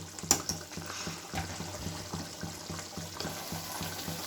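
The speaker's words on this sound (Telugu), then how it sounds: "పులుసు కొంచెం మరిగింది అయిపోయింది ఎగ్స్ వేసిన తర్వాత" Egg pulusu, a tamarind stew with eggs, simmering in a pot: soft, steady bubbling and gentle liquid pops close by, faint and even throughout, with no talking.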